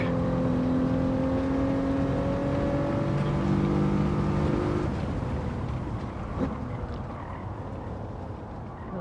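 A car in Gran Turismo 7 spinning its tires while climbing a hill at Streets of Willow: a steady, droning engine tone with strong harmonics that shifts and drops in pitch about halfway through, then carries on more roughly.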